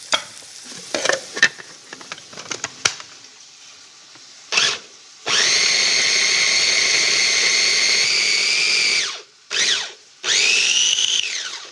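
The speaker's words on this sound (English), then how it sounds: "We'll make the pistata in this little processor right here." A small food processor chops garlic for pistata: short bursts and pulses first, then a loud sustained whirring run, a brief stop, and two more spins up close.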